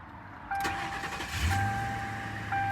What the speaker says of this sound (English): Thing fires right up and runs like a brand new cop car.